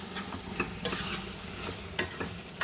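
A spoon stirs ridge gourd fry with chili powder and a little coriander powder in a pan, giving soft scraping strokes over a faint sizzle, several distinct clacks recurring at a loose rhythm.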